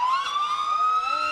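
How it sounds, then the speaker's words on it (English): The Federal Q mechanical siren on a Boyer GMC fire engine pumper wails loudly at a parade, holding a high, steady, slowly rising whine close by with no talking over it. "The distinctive sound of a Federal Q siren."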